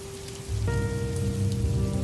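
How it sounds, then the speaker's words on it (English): Rain falls steadily on a car while it drives on a cold, wet night, a dense rushing patter over the low engine and road rumble, with a soft tonal hum rising partway through. "It was a cold, wet night, and I was driving through the rain again."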